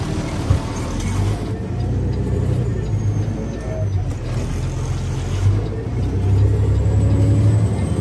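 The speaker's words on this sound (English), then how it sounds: "School bus coming, I don't know where he pulls in." A school bus approaches with a steady, heavy diesel rumble and road noise that swells slightly toward the end, heard from close range while someone talks over it.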